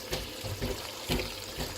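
Water pours into a cooking pot of daal gosht in several short splashy bursts, moderately faint and close by, with no talking.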